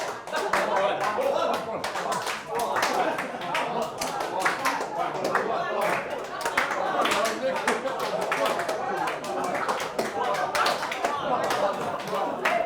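A group claps in scattered, irregular bursts during a counting game, sharp hand claps overlapping with talk and chatter throughout.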